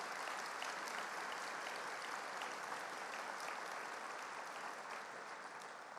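An audience at a school leadership breakfast applauds special guests, a dense and steady clapping heard from a distance that fades slightly toward the end.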